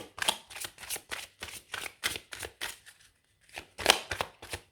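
Tarot cards shuffled by hand in quick rhythmic bursts, a steady run of crisp riffles and slaps, close and fairly loud, with a short pause before a final louder flurry.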